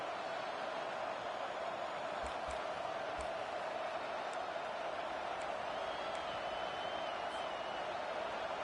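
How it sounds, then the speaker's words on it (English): A dense, steady roar of a large stadium crowd cheering, loud and continuous throughout with no pauses. "This crowd bringing the energy and noise early."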